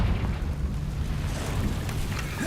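A Confringo spell explosion in Hogwarts Legacy, a dense rumbling blast that rolls and crackles steadily for a couple of seconds, loud and full, with no voices over it.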